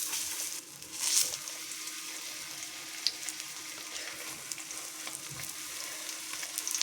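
Rava-coated bangude (mackerel) pieces fry on a tava over low flame, giving a steady close hiss and sizzle with occasional crackles and pops throughout, with no talking.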